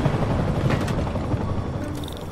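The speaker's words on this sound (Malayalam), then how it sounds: "ഒരു ഹെലികോപ്റ്റർ പോണ്ട്" A helicopter passes in the Spider-Man Remastered game on PS5, a steady whirring drone held at even loudness for a couple of seconds with no talk over it.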